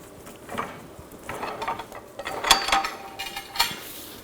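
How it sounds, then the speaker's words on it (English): Pole jack lowered under a 2000-2006 BMW X5 during front lower control arm work, a series of soft ratcheting mechanical clicks and metallic rattles, close and moderately quiet. "I'm gonna lower the pole jack"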